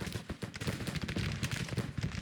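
Continuous gunfire and distant cannon rumble from a Civil War battle in the strategy game Grand Tactician, with dense overlapping musket volleys crackling steadily and no voices.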